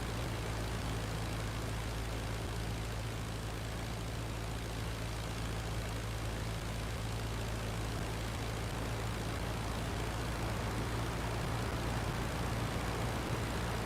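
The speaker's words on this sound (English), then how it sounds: "That's not a balloon, that's a plane." An Albatros biplane's engine in the flight game Flying Circus drones steadily and loudly throughout, a constant rough propeller roar with a low hum and no pauses.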